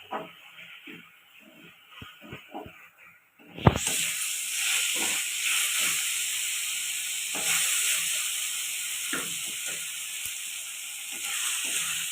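Chopped tomatoes with a little salt frying in a pan for ghugni, a Bengali dish, giving a steady loud sizzle that starts suddenly after some quieter clinks and continues unbroken to the end.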